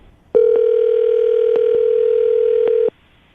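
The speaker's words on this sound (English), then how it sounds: "we're going to give her a call right now" A telephone line tone sounds as a single steady, loud hum for about two and a half seconds, briefly broken by faint clicks, before cutting off into silence. No voices are present.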